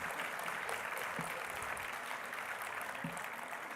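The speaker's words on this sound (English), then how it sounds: "Let's give them a round of applause." A crowd applauds jingle dancers at an Indigenous apology ceremony, a dense and steady wash of clapping at an even level throughout, with a faint voice beneath it.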